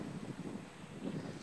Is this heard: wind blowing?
yes